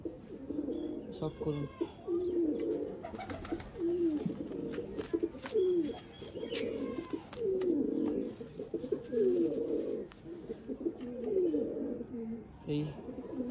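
Pigeons coo repeatedly in a rhythmic series at close range, mixed with a few chirps from other birds, while someone talks over them. The birds are a female tournament pigeon brooding eggs, among Andhra, Madrasi and Kalanka breeds.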